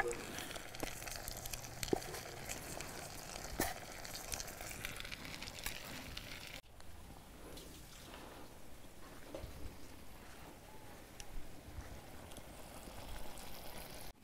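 Nopales sizzling in a hot pan while being stirred, a steady crackling fry with occasional scraping clinks, fairly quiet and continuous, no talk.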